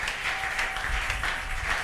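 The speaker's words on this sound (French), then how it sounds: "Nous pouvons acclamer pour le Seigneur" Church congregation applauding the Lord, a steady wash of dense clapping from many hands throughout, fairly close and even in loudness.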